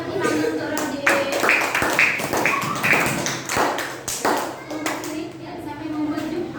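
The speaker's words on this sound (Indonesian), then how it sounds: "Beri tepuk tangan untuk Radit" A classroom of children clapping for a classmate, uneven bursts of close hand claps and taps mixed with children's voices and chatter.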